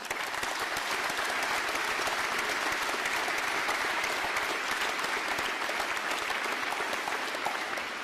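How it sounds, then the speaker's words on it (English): Steady, dense clapping from an audience at a Recruit Training Command ceremony for friends, family and loved ones, holding at an even level for the full eight seconds with no pauses. "Let's give our friends and family and loved ones a round of applause."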